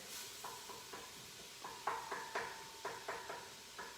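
Bacon being cooked in a pot as a base for seafood chowder, heard as a series of intermittent stirring scrapes and soft clinks against the pot over a faint low sizzle.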